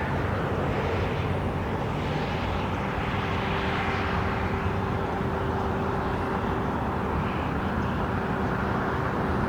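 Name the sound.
Airbus A380 passenger plane landing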